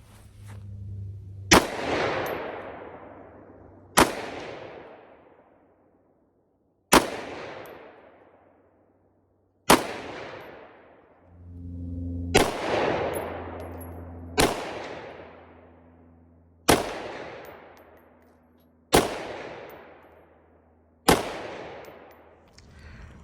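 Nine sharp, loud gunshots ring out one at a time, a couple of seconds apart, each with a long decaying echo, fired outdoors during a test of a Streamlight Protac 2.0 rail-mounted weapon light; no talking.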